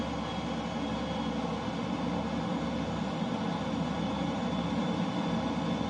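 An aircraft engine in the video game Microsoft Flight Simulator 2020 drones steadily at a constant, moderate level, with no voices.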